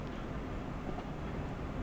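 A train in Train Sim World on the Ruhr-Sieg Nord line rumbles low and steady at full throttle, faint and continuous with no voices.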